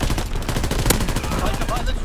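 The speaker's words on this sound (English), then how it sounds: "the fire pilot gives you a chance to shoot a machine gun" Continuous loud machine gun fire in the online World War II shooter Call of Duty: WWII, a fast unbroken burst of rapid shots with a sharper bang near the middle.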